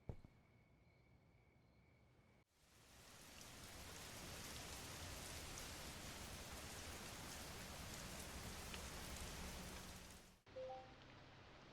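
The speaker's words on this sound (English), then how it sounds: "Nice rainy day." Steady, dense rainfall in the video game Schedule I, a loud, even wash of drops that starts abruptly, holds for several seconds and cuts off suddenly, with quieter ambience before and after.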